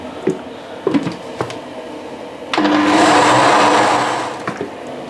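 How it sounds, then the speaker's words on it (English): A kitchen blender purees cooked fresh spinach for a Pakistani chicken saag, whirring loudly and steadily for about two seconds before winding down, preceded by a few clunks and knocks. "I'm going to stick this in a blender."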